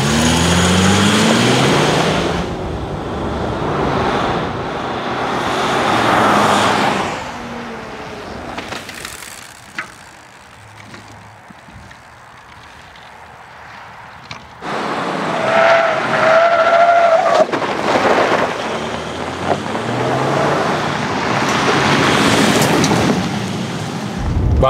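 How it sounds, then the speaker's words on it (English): Mercedes G-Class driving hard off-road through woods in Scandinavian rally style, a loud continuous rumble of engine and tyres on rough ground that surges and fades, dropping quieter midway before building again, with no talk. "I have to do a little bit of Scandinavian rally driving."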